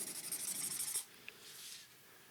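A Derwent Inktense pencil nib wiped clean with a quick dry rubbing and rasping for about a second, followed by a faint scrape and soft hiss, all close and quiet with no talk.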